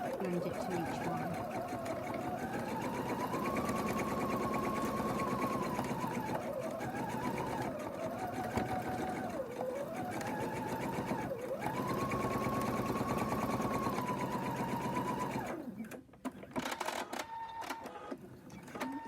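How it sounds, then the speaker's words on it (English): A sewing machine runs a quarter-inch seam through quilt patchwork fabric, a close steady motor hum with rising and falling pitch as speed shifts, stopping near the end. "we're going to sew 1/4-inch seam on this one"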